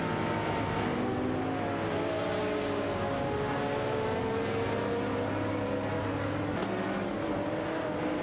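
Several race cars, including a Ferrari F430 GTC and a Cadillac CTS-V, battle in a simulated video game race, a dense, continuous roar of engines with overlapping rising and falling pitches.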